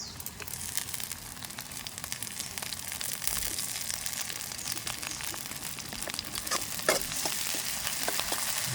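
Onions and curry leaves fry in hot oil in a pan, giving a steady, dense sizzle with faint crackles and small pops throughout, close and continuous with no talking.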